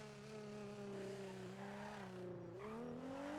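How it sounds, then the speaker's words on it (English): A noisy car engine in GTA NoPixel drones steadily at speed on a highway, its pitch dipping and climbing through gear changes, loud and continuous with no talk. "The noisy engine is back."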